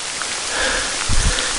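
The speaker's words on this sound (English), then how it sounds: "And here comes the rain." Steady broadband hiss of rain falling in a forest where bear signs were seen, a continuous wash with some low rustling and thumps near the end.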